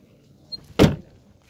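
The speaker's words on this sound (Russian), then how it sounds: "Двери скрипят." A heavy door on a used Japanese car with a 3.2 engine at a budget car market in Yerevan, giving one short, loud creak and thud alone after a brief faint click, with no talk.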